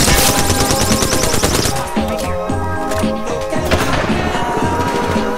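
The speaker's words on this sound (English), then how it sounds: "Shooting at us from airbase." Rapid bursts of video game gunfire, dense machine-gun rattles and sharp shots crowding together near and loud, with scattered impacts and cracks throughout.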